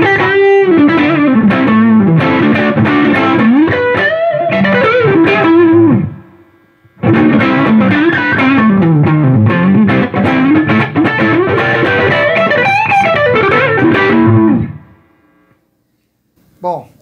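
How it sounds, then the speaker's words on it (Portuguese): Humbucker electric guitar driven through a Meteoro Falcon 50W tube amp with valve distortion, miked with an SM57. Loud, dense distorted chords and riffs play in two long phrases separated by a brief pause, then the sound rings out and fades. "E aí a gente vai sentir um pouco mais do som da distorção do amplificador, distorção de válvula"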